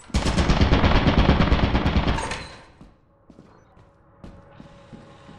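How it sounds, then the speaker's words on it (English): A turret in Lethal Company fires a rapid, loud machine-gun burst for about two seconds, then cuts off, leaving quiet mechanical ticks and a faint hum. "That's a turret."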